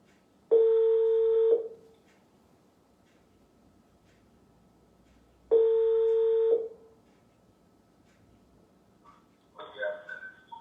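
Telephone dialing tones heard while calling someone back, in two steady one-second tone bursts spaced several seconds apart, clear and close, followed by a faint voice at the end.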